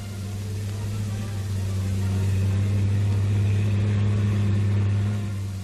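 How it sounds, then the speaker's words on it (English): A 1944 military tank engine drones steadily as the vehicle tries to climb granite blocks on a sloping beach wall, a low rumbling hum that swells gently and then eases off. "an attempt will be made by a tank to negotiate the granite blocks"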